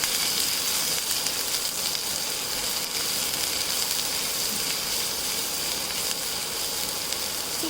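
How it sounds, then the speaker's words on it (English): Finely chopped onions and garlic sizzling in a pan on high heat for a stuffed mushroom filling, a dense, steady, close frying hiss that holds evenly throughout with no talk. "We're tossing this all on a high heat, hence you can hear the sizzling sound."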